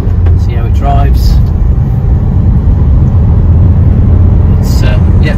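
A 2018 Vauxhall Vivaro L2H1 2900 Sportive van with a 120 CDTI diesel engine, driving along a road, gives a steady, loud interior drone of engine and road noise throughout.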